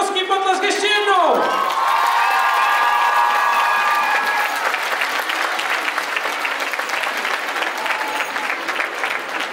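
A large audience applauds at a children's dance competition awards ceremony in Zubří, loud sustained clapping mixed with cheers, whoops and shouting from kids, with a voice or whistle briefly rising above the crowd at the start.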